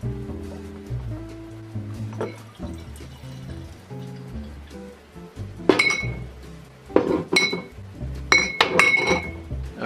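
Glass bottles clink and knock together while homemade malt liquor is bottled, including a 40-ounce glass bottle. Quiet handling noises lead into clusters of bright, close clinks that grow louder and busier toward the end.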